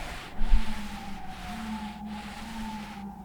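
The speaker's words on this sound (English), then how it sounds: "And there's a siren already, so that's a good sign." Emergency vehicle siren outside in New York City, a steady sustained wail heard from a distance under faint traffic noise, with one brief low thump early on.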